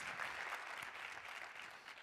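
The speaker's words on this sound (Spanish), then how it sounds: "welcome our internet audience with a strong hand of applause." A church congregation applauds, a faint, steady wash of clapping from a crowd heard at a distance, continuous for a couple of seconds.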